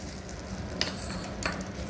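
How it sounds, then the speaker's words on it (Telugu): Hot ghee tempering poured over little millet dal khichdi gives a continuous close sizzle. Two quick clinks and scrapes of a utensil cut in, and nobody speaks. "అందులోనే పోపు వేస్తున్నానండి నేను పైనుంచి. నెయ్యి పోపు అండి ఇది."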